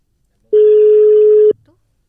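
A single steady electronic telephone ringback tone sounds for about a second, clean and loud, with nothing else around it.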